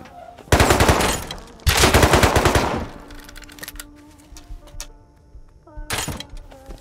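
Gunfire in the video game Rust, with a pump shotgun mentioned. Two loud rapid bursts of shots ring out up close, each lasting about a second, followed by softer clanks and another sharp burst near the end.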